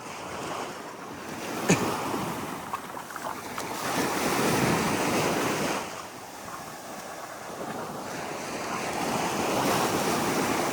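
Ocean waves wash onto South Beach in the early morning, rising and falling in slow, broad surges, with wind buffeting the microphone and no voices.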